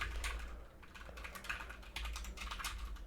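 Fingers type on a computer keyboard in quick irregular bursts of soft clicks and taps, quiet and close, with no voices.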